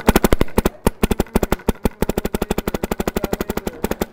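A DM6 paintball marker fitted with a Techt bolt fires reballs in rapid strings, sharp loud pops in quick bursts with brief pauses between volleys, close and dominant.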